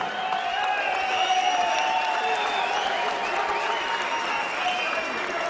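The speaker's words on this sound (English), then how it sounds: "They need a round of applause just for going 12 rounds." A large crowd applauding steadily after a 12-round heavyweight boxing match, dense continuous clapping with some cheering mixed in, sustained at an even level throughout.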